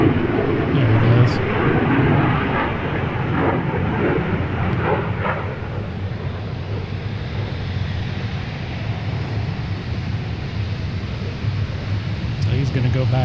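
An F-16 fighter jet flying at the Seafair airshow in 2025, a broad rushing jet roar that stays strong throughout while people talk over it.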